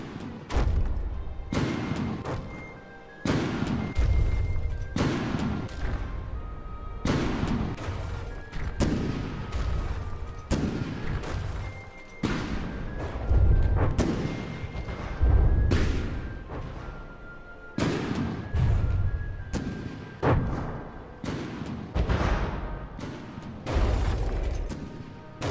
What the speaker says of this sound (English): the T90 is just shooting shells straight down the wheel well